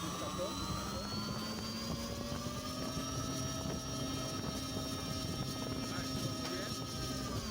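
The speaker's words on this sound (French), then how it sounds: "Un petit test pour voir combien tire ce moteur qui était dessus" Electric motor of an orange GEM RC glider running steadily on a bench test, a continuous close whine with rising and falling tones over constant airy propeller noise.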